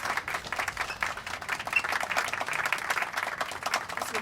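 Dense, continuous applause from many hands, added over a high school musical movie scene, holding at a steady level throughout with no voices standing out.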